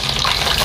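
Pempek fish cakes are stirred in hot oil in a short burst of dense, close sizzling and bubbling, with the stirring adding a soft churning texture.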